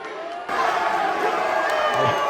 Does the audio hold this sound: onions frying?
no